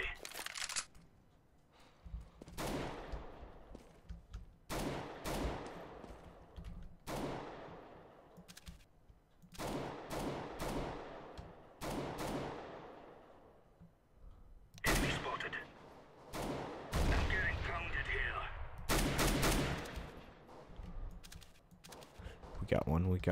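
A decoy grenade in Counter-Strike: Global Offensive fakes gunfire, producing spaced sharp shots and short bursts at irregular intervals, with other game sounds and a person talking over them.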